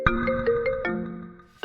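A phone ringtone plays alone, a bright repeating electronic melody of short stepped notes that carries on steadily for nearly two seconds before a fresh phrase starts at the end.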